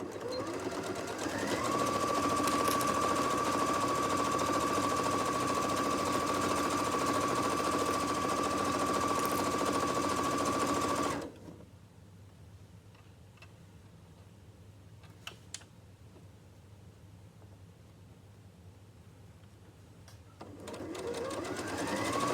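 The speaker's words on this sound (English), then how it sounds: "just sew a nice straight line there" A domestic sewing machine stitches a straight seam on a boxed pencil case, running steadily and loud for about eleven seconds, then stopping into quiet room tone with a couple of small clicks before the motor starts again near the end.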